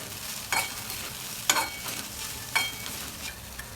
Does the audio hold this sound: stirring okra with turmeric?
yes